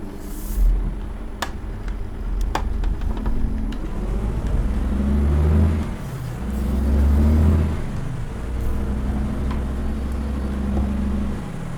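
A Setra 517 HDH TopClass coach drives in Euro Truck Simulator 2, its engine producing a steady low rumble with swelling revs as it accelerates and eases off along winding roads.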